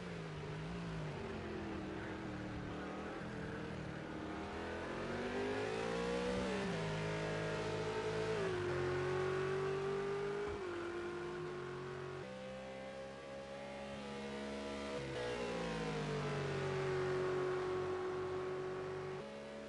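Race car engines roar continuously in Project CARS 2 at Monza, with rising and falling revs and gear shifts as cars run close together in an endurance race, loud and sustained throughout.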